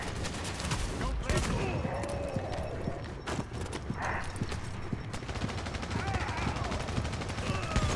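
Heavy, hard-recoiling gun in Tom Clancy's The Division fires in rapid, dense bursts, a loud nearby clatter of shots that keeps going throughout, mixed with other battle noise and occasional voices.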